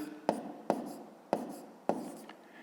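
A math formula being written by hand: four distinct tapping strokes of pen or chalk at roughly even spacing, close and clear, with faint scratching between, no voices.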